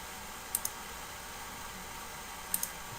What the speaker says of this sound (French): On clique enregistrement et on clique sur enregistrement ici